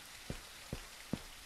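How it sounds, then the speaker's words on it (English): Rain in the Sammy Jukes Twin Lakes game, a faint steady wash of rainfall with three soft, evenly spaced drop taps on a surface. "I like the rain to an extent."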